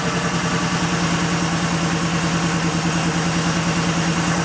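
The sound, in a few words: Porsche 3.2 Carrera engine idling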